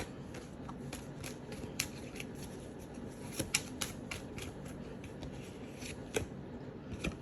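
Oracle cards being shuffled by hand during a tarot-style reading, a steady run of soft papery riffles and snaps, close and fairly quiet, with no talk over it.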